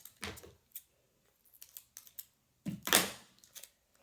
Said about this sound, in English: So now I'm just taping it.